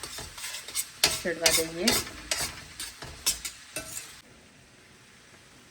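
Spices with kitchen king masala are stirred in a hot pan for a masala paneer filling, giving rhythmic scraping strokes over a steady sizzle, with a short voice partway through before the sound drops off near the end.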